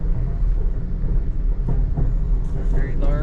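Amtrak Texas Eagle passenger train running between St Louis and Chicago, heard from inside as a loud continuous rumble and rattle with faint squeals, and people talking over it.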